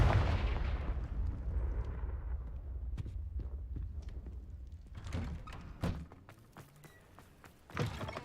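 A Confringo fire spell explodes in Hogwarts Legacy during a cellar spider fight, opening with a heavy booming blast that rumbles and decays, followed by scattered thuds and sharp impacts.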